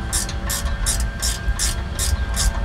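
Ratchet clicking in quick, evenly spaced bursts while loosening a fitting on a Nissan Frontier rear differential, close and crisp over a low background hum, about seven strokes with no talking.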